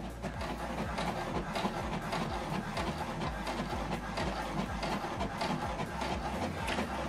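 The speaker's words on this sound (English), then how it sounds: "Now it's printing the document." An HP Deskjet 2800 series inkjet printer prints a document with a steady, busy mechanical whir, the print carriage clicking and ratcheting repeatedly throughout at close range.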